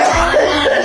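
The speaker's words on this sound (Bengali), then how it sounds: "আর আব্বা তো কাশতেছে কেন?" An older man coughs harshly once or twice at close range, a brief loud burst.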